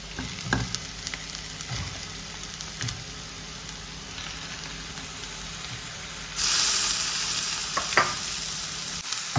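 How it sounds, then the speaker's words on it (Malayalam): Chicken pieces frying in a spiced onion masala for a simple chicken roast, giving a steady close sizzle with occasional stirring knocks that grows louder and brighter toward the end. "ഈ മസാലയിലേക്ക് ചിക്കൻ ഇടാം ചിക്കൻ ഇട്ടിട്ട് നന്നായി ഒന്ന് വറുത്ത് കൊടുക്കുക"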